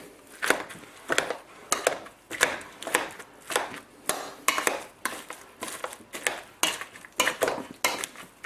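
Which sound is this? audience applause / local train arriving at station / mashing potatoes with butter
mashing potatoes with butter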